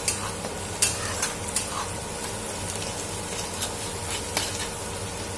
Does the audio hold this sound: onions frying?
yes